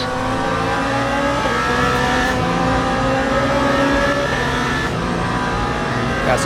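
Race car engines in the Le Mans Ultimate racing game during the 24 Hours of Le Mans, a loud continuous engine drone with rising and falling pitch as an LMP2 car is passed.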